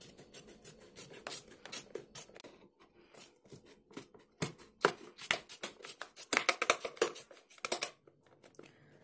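Scissors cut through a plastic Persil gel jerrycan in a run of short, dry snips and scraping crunches, close and fairly quiet, with brief pauses between strokes.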